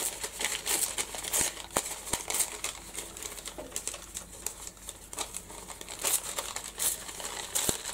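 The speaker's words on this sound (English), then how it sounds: "I'm going to tear this, so I've got 3 strips" Rice paper torn by hand into three strips, a close, dry crinkling and ripping running almost continuously with short sharp crackles and a few louder tears, no one speaking.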